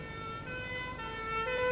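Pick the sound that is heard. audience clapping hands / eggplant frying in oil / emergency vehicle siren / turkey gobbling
emergency vehicle siren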